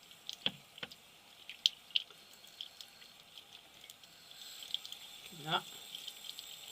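Paintbrush rinsed under a running tap after being rubbed on a bar of soap; soft water trickles and splashes with a few drips and a brief gurgle near the end, alongside a short spoken word.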